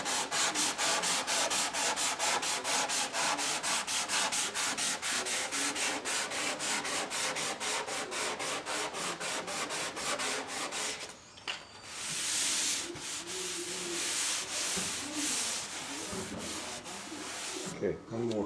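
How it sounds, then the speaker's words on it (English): Sandpaper is worked by hand over wood in steady, fast back-and-forth rubbing strokes, close and continuous, pausing briefly before the scratching resumes. "let the sandpaper do the cutting"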